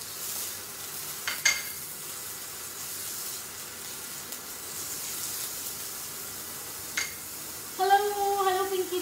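Finely chopped onion and garlic fry in a pan with a soft, continuous sizzle and a few light clinks, and a brief whistling tone appears near the end.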